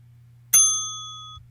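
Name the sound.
bell sound effect being previewed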